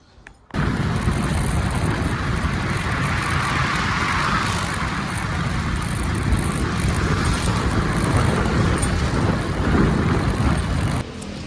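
Riding in a vehicle on a road gives a steady, loud rumble of engine and road noise that starts abruptly and runs without a break for about eleven seconds.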